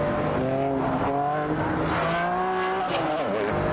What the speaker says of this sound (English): The lights on the wheels scream up through the revs.